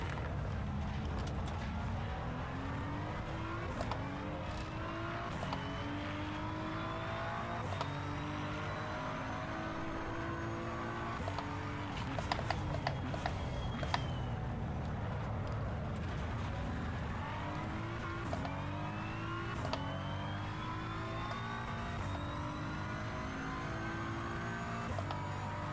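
BMW race car engines from the Assetto Corsa driving game, a continuous layered drone of several engines with rising and falling pitch sweeps as revs change, steady and fairly loud throughout with no voices.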